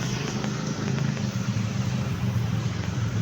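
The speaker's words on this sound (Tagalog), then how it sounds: "Dami nga lang sasakyan." Steady road traffic on a narrow street at night, with cars and motorcycles passing close by as a continuous engine rumble and drone, a motorbike rev rising briefly above the wash of traffic noise.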